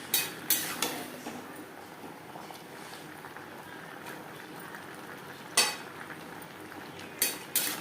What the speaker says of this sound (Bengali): ডাঁটা কুমড়ো ও বেগুনের সাথে শাক বেশ ভালো করে মিক্স করে দেবো।